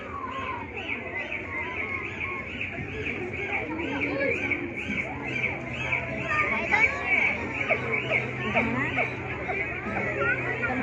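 A busy chorus of high squeaky whistles and rapid clicks overlaps continuously, with many calls at once and no pauses.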